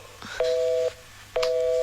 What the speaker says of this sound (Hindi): फोन कट गया। कटा नहीं, उस बेवकूफ ने काटा है।